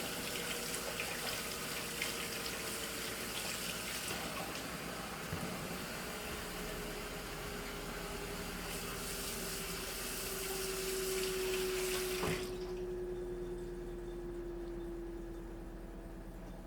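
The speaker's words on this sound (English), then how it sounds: "I'm going to wash my hands." A kitchen tap runs steadily for hand washing before cooking, a continuous close rushing of water that cuts off abruptly near the end, with no talking.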